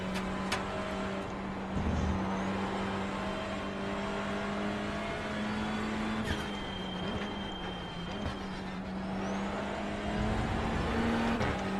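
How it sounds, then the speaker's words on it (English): A touring car in a TCR race at Road America runs off the track, its engine droning steadily at a distance with some rising revs and passing-car noise. "one of his first attempts of trying to off-road in a touring car"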